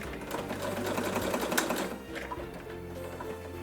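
Close, loud sewing machine stitching a long straight seam along fabric, with a continuous whirring motor and rapid needle chatter running almost the whole time, easing slightly partway through.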